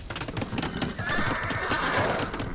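Horses in Age of Empires II neigh in a clear whinny midway, over a steady clip-clop of hooves and busy in-game ambience.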